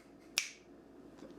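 A single crisp finger snap cracks out once, sharp and close, over a quiet background with no talking.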